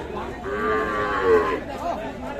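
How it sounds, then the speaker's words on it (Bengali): A Sahiwal breed bull calf moos loudly at a busy cattle market, one drawn-out, close call with a rising and falling tone, with faint crowd chatter in the background. "এই কাহারোল হাট থেকে শাহিওয়াল জাতের সারবাছুর"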